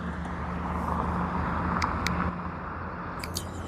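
Road traffic passes steadily behind, a broad continuous rumble of vehicles going by with faint higher whooshes and brief ticks, no voice heard.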